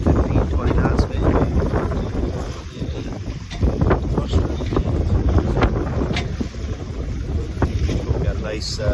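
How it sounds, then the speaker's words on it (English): Strong southwest wind of about 20 knots buffets a sailboat out in a bay, roaring and gusting close to the microphone over the wash of water around the hull. "The wind is thrown about, let's say she's 20"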